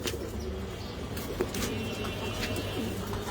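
Pigeons on a pigeon farm coo in low, steady, overlapping murmurs, with occasional faint wing flutters and chirps over a constant background hum.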